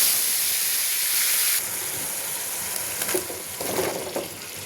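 Papaya, potato and soybean going into hot oil with five-spice seasoning, a loud steam hiss that drops abruptly, then softer sizzling with a couple of bursts of spattering and stirring.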